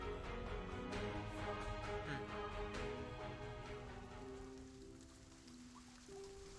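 Pouring rain from the video game Reverse: 1999, a steady wash of falling water under a sustained musical drone, fairly soft and continuous throughout.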